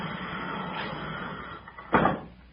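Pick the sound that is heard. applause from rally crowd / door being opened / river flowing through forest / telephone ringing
door being opened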